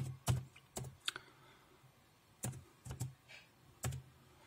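Keys on a computer keyboard are typed in short bursts while a boot repair command is entered during a Windows boot error fix, with a handful of sharp, close clicks separated by brief pauses in a quiet room.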